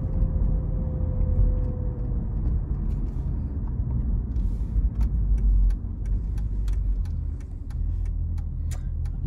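A 2004 Mercedes SL55 convertible under way, its engine a steady low rumble inside the cabin that eases and swells through gear shifts, with faint ticking clicks in the second half.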